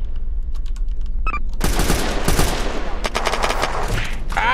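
Rapid loud gunfire bursts at a roadblock in the video game Unturned, dense overlapping shots after a quieter opening with faint clicks.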